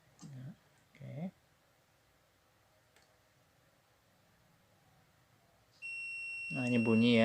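A multimeter gives a steady, high continuity beep while probing a shorted capacitor on an LG 32LJ510D TV board. The beep starts after a long quiet pause, and a voice is briefly heard before it and over it.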